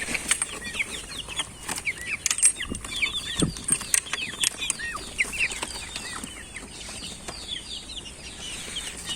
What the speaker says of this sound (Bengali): দেশি মুরগি আছে, পাকিস্তানি মুরগি আছে।